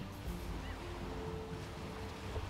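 Ocean waves wash and roar continuously in the video game Unravel, a broad steady surf noise with faint tonal game music underneath, no speech.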